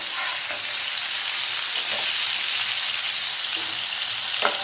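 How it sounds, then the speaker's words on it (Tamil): Prawns deep frying in hot oil for a prawn roast give off a steady, loud, close hiss of sizzling bubbles that runs throughout, with a few faint clinks near the end. "இதே போல் எல்லா ப்ரான்ஸையும் பொரித்து எடுத்துகிட்டு வந்துடுவோம்."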